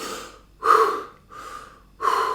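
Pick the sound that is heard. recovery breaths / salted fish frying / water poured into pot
recovery breaths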